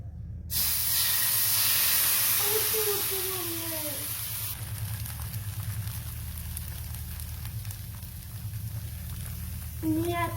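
Dosa batter hits a hot oiled pan with a sudden loud hiss that slowly fades into a softer, steady sizzle, with a faint voice in the background.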